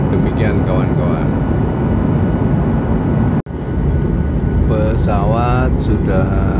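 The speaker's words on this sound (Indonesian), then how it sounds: "Pesawat sudah mulai turun mengarah ke Bandara Suta." Airplane cabin noise on descent toward Soekarno-Hatta airport in Jakarta: a continuous broad engine and air roar, with faint voices in the cabin and a brief dropout midway.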